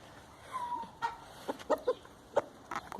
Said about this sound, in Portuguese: Esse aqui é o galo.